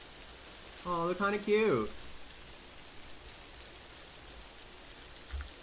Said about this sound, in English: Yeah, the rain is very soothing.